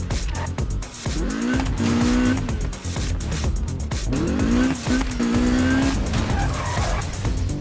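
Racing cars in Need for Speed 2015 screech through corners, with two long tire squeals rising over a constant loud engine drone and scattered impact clicks, close and continuous.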